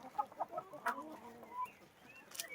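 Hens in a backyard coop, including newly brought laying hens, give a run of soft clucks and short squawks at close range, with scattered calls overlapping through the stretch.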